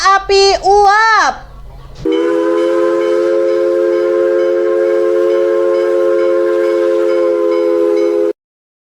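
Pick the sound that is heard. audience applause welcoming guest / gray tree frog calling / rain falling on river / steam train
steam train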